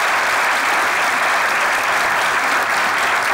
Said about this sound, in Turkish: Bravo, alkışlıyoruz yani.